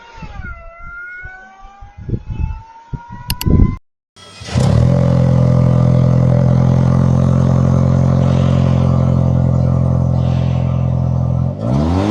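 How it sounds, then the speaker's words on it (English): A Toyota Land Cruiser 250 SUV fitted with an OEM TRD performance exhaust roars to life with a sharp rev, then settles into a loud, steady, deep idle rumble; brief mechanical noises precede the start. "We're going to do a little bit of recording real fast of the exhaust"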